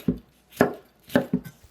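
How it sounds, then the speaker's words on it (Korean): A knife chops a red bell pepper into squares on a cutting board, four crisp, close thuds in an uneven rhythm with brief silences between them. "파프리카는 길이 방향으로 썬 다음 네모 모양으로 썰어 주시고요."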